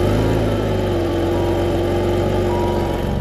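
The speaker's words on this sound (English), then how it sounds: "See if I can get you a good little view here of the engine starting." Car engine running loud and close at a steady, even idle with a constant mechanical whir and no pauses throughout.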